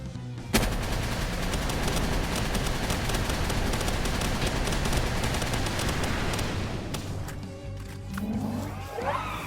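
A gunfire barrage in Palworld, with rapid sustained automatic shots pounding for several seconds before tapering into scattered bursts, followed by brief game sounds near the end.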